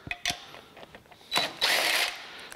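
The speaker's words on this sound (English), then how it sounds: "that's just using a 7/16 inch deep well socket" A ratchet fitted with a 7/16 inch deep well socket removes nuts from a Porter Cable air compressor during a cylinder and piston rebuild, giving a few light clicks followed by a brief burst of rapid ratcheting, close and fairly quiet.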